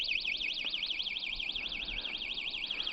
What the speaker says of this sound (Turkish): motorunuza birisi temas ettiği zaman alarmınız ötecek